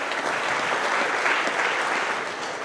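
Audience applause with some cheering at a Melton Truck Lines company monthly meeting, a steady, dense wash of clapping that holds evenly from start to finish.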